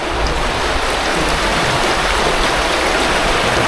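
Steady rushing water flows past a reservoir dam gate at Midway Canyon Reservoir in Cozad, Nebraska, a loud continuous wash with no break and no voices.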